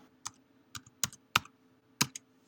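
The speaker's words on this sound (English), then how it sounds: "And then we have to type it in here. Then we have to type it over here." Numbers are typed on a computer keyboard: five or six distinct, crisp keystrokes with uneven spacing, close and fairly quiet against a faint background hum.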